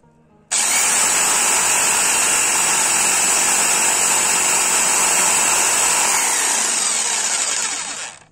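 A Bosch PST 650 jigsaw starts abruptly and cuts wood loud and steady with a high whine and buzzing for several seconds, then winds down at the end.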